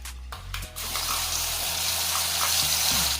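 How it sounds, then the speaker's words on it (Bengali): Rinse water from a mixer jar poured into a pan of hot oil holding a nigella seed tempering and ground mustard and poppy seed paste for a bitter gourd curry: a steady gushing, hissing pour that starts after a brief pause and carries on loudly. "আর দিচ্ছি মিক্সির পাত্রটা ধোয়া একটু জল দিচ্ছি"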